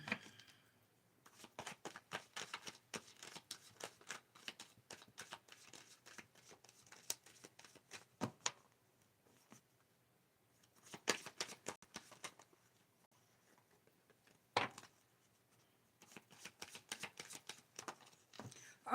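Tarot cards are shuffled close by in several quiet bursts of rapid riffling and flicking, separated by brief pauses.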